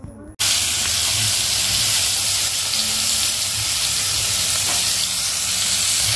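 Slices of pointed gourd (potol) frying in hot oil in a pan, a loud continuous close sizzle and hiss that starts abruptly and holds steady throughout.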